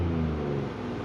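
A Ford Ranger Raptor pickup truck's engine rumbles steadily through dual chrome exhaust outlets with a low exhaust note, slightly rising as if revving, close by with no talking.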